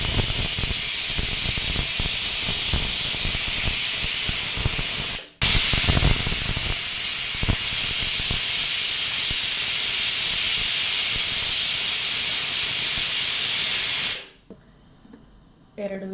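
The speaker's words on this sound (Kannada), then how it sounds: "ಈಗ ಇದು 2 ವಿಸಿಲ್ ಕೂಗಿದರೆ ಸಾಜೀರ್ ರೈಸ್ ರೆಡಿಯಾಗುತ್ತದೆ." A pressure cooker cooking rice sends out a loud, steady rush of hissing steam for about fourteen seconds. A brief break interrupts it near five seconds, and the hiss cuts off abruptly at the end.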